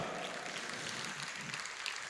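A concert audience applauds, a steady dense wash of clapping from a crowd that holds even from start to finish.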